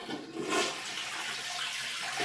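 An old toilet, repaired with a new flush valve and with its tank filled from a bucket, flushes with a steady close rush of water that runs throughout.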